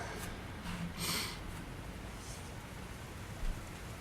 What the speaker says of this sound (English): Look at the sound of the rain.